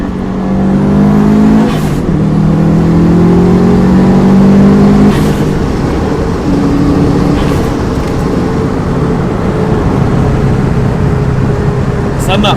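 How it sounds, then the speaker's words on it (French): Subaru WRX STI Stage 3 making about 420 hp, heard from inside while accelerating, a loud droning engine with gear-change steps and rising pitch, continuous and close, with people talking over it. "Quand je vais remettre à 90, je vais refaire une accélération"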